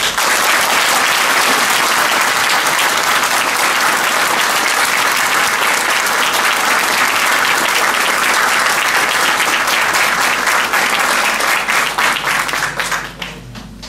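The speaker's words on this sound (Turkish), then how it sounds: "kendisine güçlü bir alkış istiyorum" Strong, sustained audience applause fills the room at a Circassian association gathering in Ankara, loud and dense throughout before tapering off near the end.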